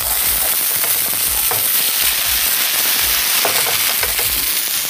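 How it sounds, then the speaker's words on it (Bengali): Ginger garlic paste and onion paste hitting hot oil in a pan, a loud, dense, continuous sizzle with crackling spatters and occasional stirring scrapes, close up and without talk. "অয়েলটা এখানে গরম, তো আমি এখানে আদা রসুন বাটা দিব, একটু পেঁয়াজ বাটা"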